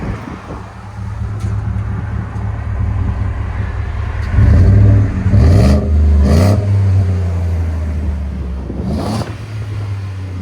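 A 2024 Ford F-150 with a 5.0L V8 and an MBRP universal muffler sits at a deep, steady idle, then swells into a louder throaty rumble with a few pulses as it backs up before settling again.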